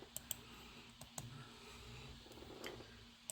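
Scattered clicks of a computer keyboard being typed on, soft and close, with irregular keystrokes and brief pauses in a quiet room.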